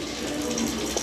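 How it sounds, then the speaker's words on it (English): Water pours from a ceiling-mounted shower in a bathroom in Thessaloniki, Greece, a steady close splashing rush that fills the whole short moment without talk. "Just step down here like this, and then the water comes from the ceiling."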